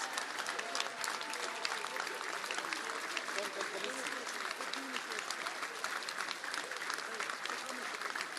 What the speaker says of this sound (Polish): Wielkie brawa dla Was!